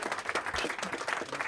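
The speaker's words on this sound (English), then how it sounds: "So please give a round of applause to our" Audience applause at a technology event, a dense, steady patter of many hands clapping together at close range for the whole short stretch.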